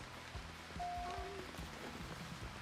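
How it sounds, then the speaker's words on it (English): Rain falls steadily in a video game store scene, a soft continuous patter with faint game tones and low thumps underneath. "Another rainy day."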